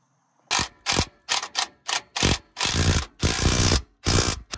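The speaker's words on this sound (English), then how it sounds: "So now we're gonna put the two bolts in the bottom." Bottom bolts of a car coilover being fitted and tightened, heard as a series of close, sharp ratcheting bursts in uneven rhythm, some short and some drawn out, with brief silences between.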